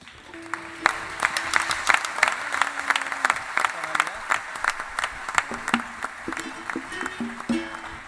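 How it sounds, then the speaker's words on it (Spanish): Theatre audience applauding musicians after a concert at the Teatro Guiniguada, a dense burst of clapping with a few cheers, while someone speaks over it through a microphone. "mi aplauso para todos ellos"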